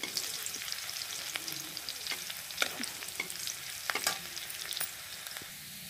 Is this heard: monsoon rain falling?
no